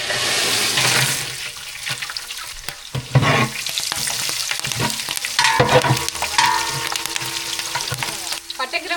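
Whole spices such as cinnamon crackling in hot oil for chicken biryani, a loud continuous frying hiss with a few stirring knocks and bursts of spatter, close up and free of talk.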